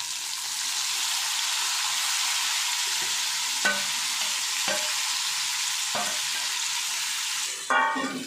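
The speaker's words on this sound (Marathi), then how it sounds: "आणि आता चांगलं परतून घ्यायचं।" Masala-coated cauliflower florets stir-fried in a pan with mustard seeds, giving a steady loud sizzle broken by several sharp spatula scrapes against the pan, with no talking.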